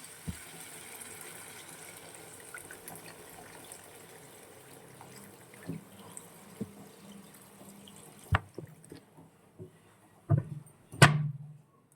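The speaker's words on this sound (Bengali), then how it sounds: "জল দিয়ে দিচ্ছি পরিমাণ মতো।" Water is poured into a cooking pot while a curry is being made: a quiet, steady trickle and slosh, with a few sharper splashes and clinks near the end. No one speaks.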